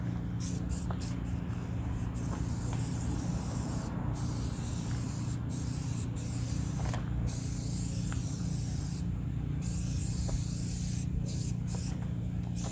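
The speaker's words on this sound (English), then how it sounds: "I always like to spray the tires down" Tire cleaner sprayed onto car tires during detailing of an FX35, coming as repeated short hissing bursts close by over a steady low background hum, with no talk.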